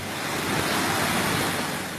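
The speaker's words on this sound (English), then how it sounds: "The beautiful scenery of the Nile exploding through a narrow gulch and water falling down to become a calm river" The Nile River crashing through a narrow rocky gorge as a waterfall, a loud, steady, broadband roar of rushing water filling the whole clip without pause.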